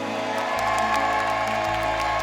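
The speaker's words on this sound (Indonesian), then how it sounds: "Tepuk tangan untuk Wan Gabut." Studio audience at an Indonesian talent show applauding and cheering as a contestant is introduced, a dense steady wash of clapping with whoops over a low musical bed throughout.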